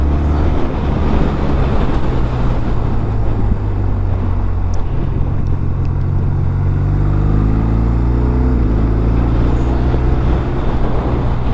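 A 2025 BMW R 12 nineT motorcycle engine under way, a loud steady boxer drone with rising and falling revs as the rider shifts, mixed with wind buffeting on the microphone, no talk.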